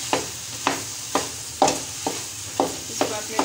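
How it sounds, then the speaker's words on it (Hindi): Khoya roasting in a pan and being stirred for carrot halwa, with a spoon scraping in regular strokes, about seven crisp scrapes over a faint steady sizzle, close and alone. "खोया इसमें डाल के थोड़ा सा इसको भूनेंगे।"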